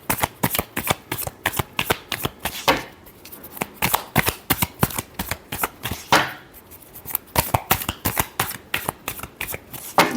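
Tarot cards are shuffled by hand in quick, crisp riffling bursts repeated steadily and close up, with two brief pauses breaking the rhythm.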